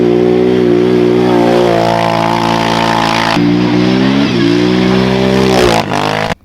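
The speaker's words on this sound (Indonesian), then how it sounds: "ini adalah motor ATV" A toy ATV engine revs loudly and steadily up close, its buzzing motor pitch holding and then dropping and rising again before cutting off abruptly at the end.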